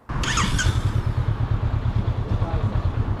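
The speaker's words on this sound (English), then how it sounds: "Let's go ahead and fire her up." A 2024 Honda SCL500 scrambler motorcycle starts with a quick crank, then settles into a close, loud, steady idle of even low thumping pulses.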